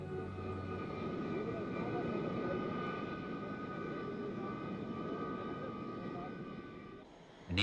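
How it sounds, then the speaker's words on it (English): An Indian Air Force transport plane produces a steady, droning engine roar that holds at an even level throughout, distant and unbroken, with no talk over it. "An Indian Air Force transport plane airlifted the rest of the members and the vehicles from Rangoon to Imphal"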